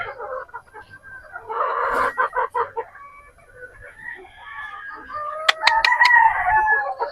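Newly harvested pullets at a GCGF Batangas farm. Several chickens cluck and call near the listener in uneven bursts, with a drawn-out crow-like cry and a few sharp knocks near the end.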